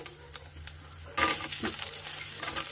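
Cumin seeds and garlic fry for dal tadka, a soft close sizzle that swells suddenly partway through as ingredients hit the hot pan, with a few stirring clicks and no talk.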